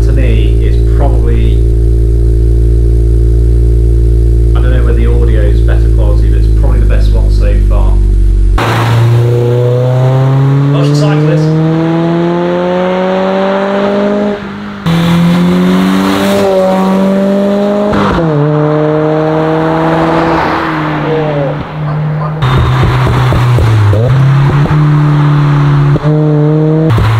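A Mazda MX-5 NC with an aftermarket twin-muffler exhaust idles low, then revs repeatedly, each rise sharp and loud before dropping back, with a voice talking over the early idle.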